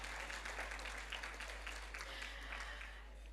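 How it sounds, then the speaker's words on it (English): Quiet audience applause at the official launch event for a Kruger National Park centre, a few seconds of scattered clapping from a crowd, faint and distant over a low steady hum, fading slightly at the end. "So please, a round of applause for her as well."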